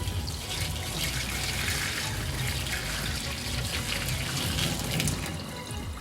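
Hot liquid pours steadily out of an insulated bottle, a continuous splashing stream that runs loud and close for the whole stretch with no talk.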